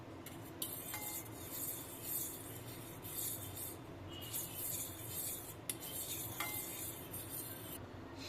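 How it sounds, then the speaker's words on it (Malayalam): Milk and egg being mixed for a sponge pudding batter, soft scraping and clinking of a utensil against a bowl in uneven strokes, close and quiet with no talk. "ഇനി ഇത് നമ്മൾ നല്ലതായിട്ട് മിക്സ് ചെയ്യുക"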